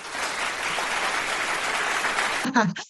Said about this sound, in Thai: ขอเสียงปรบมือให้กับคุณเลน่าด้วยนะคะ